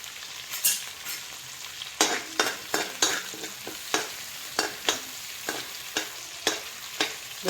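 Chopped garlic fries in a pan for chicken chilli, a steady close sizzle broken by repeated sharp scrapes and clacks of a spoon stirring against the metal, with no talking.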